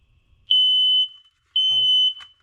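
A photoelectric smoke detector, AC-powered with battery backup and fitted with a brand-new battery, sounds two loud, piercing alarm beeps of about half a second each, separated by a short pause and a faint click.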